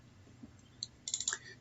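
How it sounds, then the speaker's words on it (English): Quick clicks of a computer mouse, a faint single tap followed by a tight double click and a few more clicks, close and quiet against a low hum. "We drop these fields by double clicking on them."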